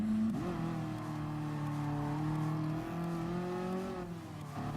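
IsoRivolta Zagato VGT from Gran Turismo Sport, its engine droning through a massive central rear exhaust, a steady sustained hum that rises slightly in pitch and dips near the end.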